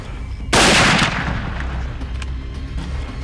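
A single loud hunting rifle shot fired outdoors on safari in Tanzania, a sharp broadband blast with a long rolling echo and decay across the open landscape, with no talk.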